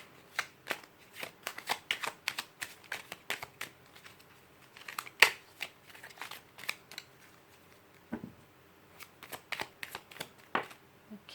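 Tarot cards being handled and shuffled, a close series of crisp flicks, snaps and slides in irregular bursts with short pauses, no talk heard.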